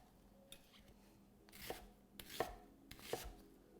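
A knife rough-chops onions for a Thai green curry, a few spaced, crisp cuts against a cutting board over a quiet kitchen background.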